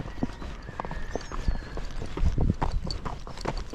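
Tennessee Walking Horse mare walking near a barn, hoofbeats clip-clopping in a steady, close walking rhythm over faint outdoor background noise.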